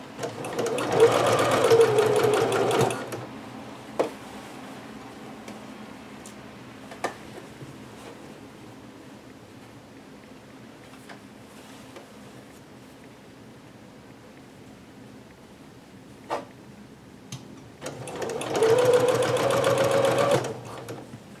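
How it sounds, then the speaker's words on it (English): Sewing machine stitching a zipper into a garment, with two loud steady bursts of motor whirring at the start and end separated by a quieter stretch of occasional clicks and handling noises. "A lot of sewing books will tell you when you're sewing a zipper to always stitch from the top to the bottom"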